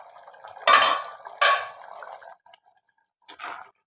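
A metal lid clanks twice against a pot of simmering small onion gravy, followed by a clatter of cookware, close and sharp with quiet gaps between.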